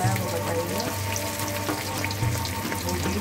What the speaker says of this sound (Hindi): ये तवा फ्राई, ये तवा फ्राई बना रही